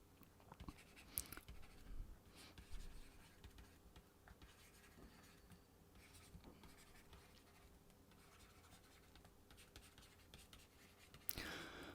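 Chalk or marker writing on a board during a classical mechanics lecture on damped oscillations, soft scratchy strokes running steadily through a quiet room, with a couple of louder taps and no talking.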